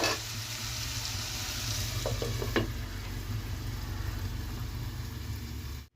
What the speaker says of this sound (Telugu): మూత పెట్టి ఒక నిమిషం దాకా మగ్గనిద్దాం కొద్దిగా టమాటాలు మగ్గాలి కదా